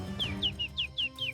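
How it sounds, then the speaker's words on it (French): A nightingale singing at night, six quick bright descending chirps in an even rhythm, fairly clear over a low background hum. "Écoutez, le chant d'un rossignol."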